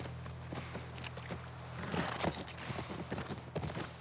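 Horse hooves clip-clop in a steady walking rhythm near a ranch in the video game The Last of Us Part I, fairly quiet over a low ambient hum.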